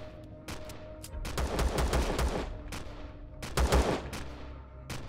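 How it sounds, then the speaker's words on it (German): Gunfire in the video game Empyrion Galactic Survival: loud, rapid bursts of shots crack out in clustered volleys, with short pauses between them and no talking. "Wir werden beschossen."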